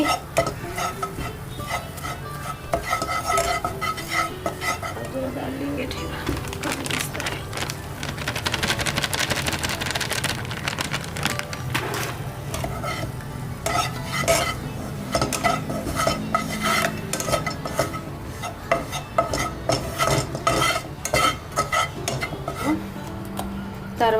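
Flour is stirred into melted butter in a non-stick kadai, with a utensil scraping and clinking against the pan over a soft sizzle, irregular and close throughout.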